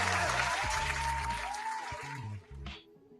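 Studio applause, likely a canned round of clapping on a political and crypto news show, plays loudly for about two seconds beneath a voice and music, then fades.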